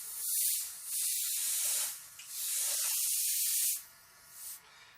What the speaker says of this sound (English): watch as I angle the airbrush here